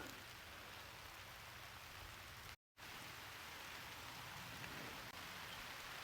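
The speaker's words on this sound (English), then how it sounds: "You might be able to hear the rain hitting the leaves" Steady rain pattering on leaves on a farm, a dense even hiss of drops close by with a brief silent gap partway through.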